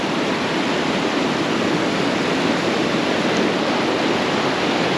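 Water rushes out of a broken check dam on the Kosasthalai river at Velliyur with a loud, continuous roar, steady and close, with no voices heard.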